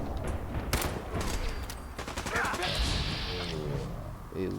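Sniper pistol shots ring out against a legendary super mutant skirmisher in Fallout 4, several sharp loud cracks in quick succession amid game effects, with a player talking over them.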